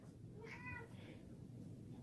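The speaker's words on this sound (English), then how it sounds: "Hold on a second, my cat wants to go outside." A house cat meows once or twice to be let outside, brief and fairly faint over a low background rumble.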